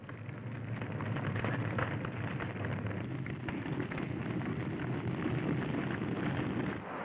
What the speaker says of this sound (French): Feu de brousse dans l'Ituri.